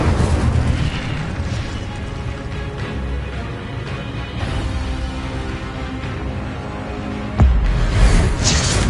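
An Incendio fire spell is cast in the Hogwarts Legacy video game, producing a dense, rumbling burst of flame that roars for several seconds and then flares again with a sharp, loud whoosh near the end.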